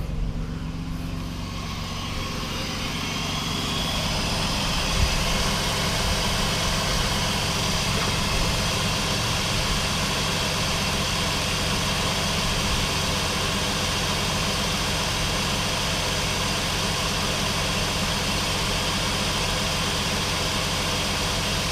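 A cold Cadillac CTS engine idling steadily at around 1,000 rpm, a continuous even rumble heard up close with no talk over it.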